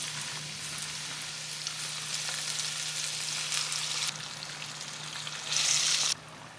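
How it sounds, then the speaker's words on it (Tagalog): Calamares fry in oil over medium heat, giving a steady, close sizzle and crackle that runs the whole time with no talking. "Pirituhin natin yung calamares into medium heat."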